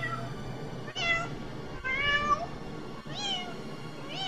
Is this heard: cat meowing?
yes